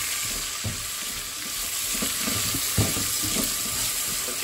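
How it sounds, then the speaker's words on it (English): Chopped tomato sizzling in a pan while being stirred, a constant close frying hiss with soft scraping bumps from the stirring. "Just keep stirring. And now let's add the chopped tomato."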